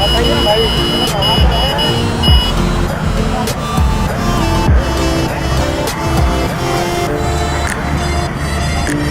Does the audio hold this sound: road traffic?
yes